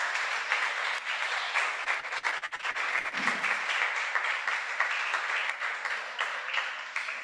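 A church congregation applauds steadily, a dense continuous clapping that holds at moderate volume throughout with slight swells.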